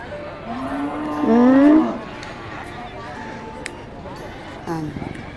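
A Holstein-Brahman crossbreed cow gives one loud, drawn-out moo at a livestock auction yard, followed by a shorter call later, while people talk throughout.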